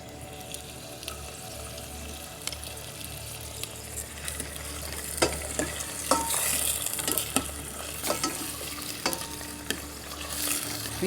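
Onion and garlic fry in a pan with a low sizzle beneath scattered sharp clinks and scrapes of stirring, which grow busier and louder partway through.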